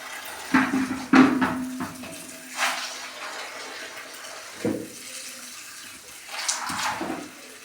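Ayurvedic herbs for a homemade shampoo are being rinsed in water in a container, with soft splashes, sloshing and a few louder knocks and clatters, fairly quiet and close, with pauses between the swishes.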